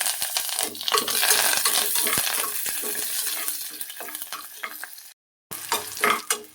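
Green chillies and curry leaves fry in a pan with split chickpeas for a radish stir-fry, a steady crackling sizzle with spoon scrapes and clicks, briefly cutting out before resuming.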